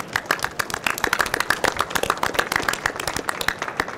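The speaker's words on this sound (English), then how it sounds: "And would you please give them a round of applause?" Audience at a Marine Corps conference on electronic and cyber warfare giving a round of applause, many hands clapping in a brisk, uneven patter at moderate loudness, with no voices over it.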